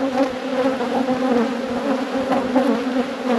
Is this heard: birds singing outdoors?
no